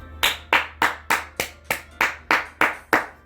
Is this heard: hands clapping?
yes